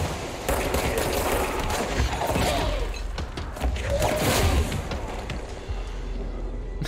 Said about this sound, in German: Das Ding explodiert scheinbar.